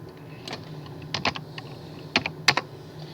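Fingers tap out a short entry on a computer keyboard, with a few crisp clicking keystrokes in small clusters and a faint steady hum underneath.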